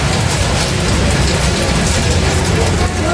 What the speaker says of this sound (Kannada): ಮಳೆ ಜೋರಾಗಿ ಸ್ಟಾರ್ಟ್ ಆಗ್ಬಿಡ್ತು